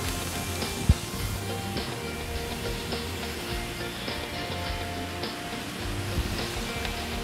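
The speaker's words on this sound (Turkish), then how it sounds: "soğanlar hafif şöyle rengini bıraktıktan sonra ıspanakları da yavaş yavaş ekleyelim" Spinach leaves go into a pan of softened onions for a spinach quiche, setting off a steady, moderate sizzle with soft crackles and an occasional stirring knock, with no talk.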